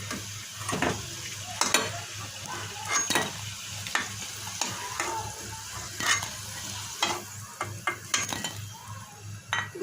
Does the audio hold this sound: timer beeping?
no